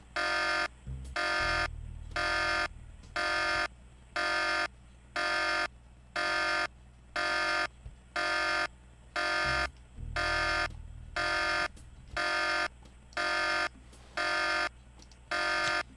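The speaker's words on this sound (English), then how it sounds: "that buzzing was absolutely obnoxious" An alarm buzzer in the Tex Murphy: Pandora Directive video game blares in a steady repeating on-off pattern, roughly one harsh electronic burst per second, loud and unbroken for the whole stretch with a low rumble beneath.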